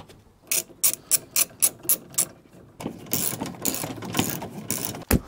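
Ratchet wrench clicking in quick, evenly spaced bursts while tightening bolts during flooring work inside a Mercedes Sprinter van, close and clear, followed by busier rustling and handling noise.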